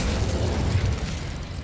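Whooshing burst of an Incendio fire spell in Hogwarts Legacy, a loud rumbling flare of flame that holds for over a second and slowly fades, with no talking.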